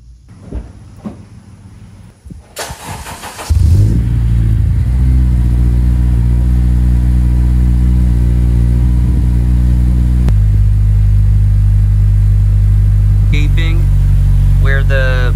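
An 8th-gen Honda Civic Si with a full race exhaust starts up after some clunks and shuffling, then idles with a deep steady drone and a slight rise in pitch, with metallic rattles near the end.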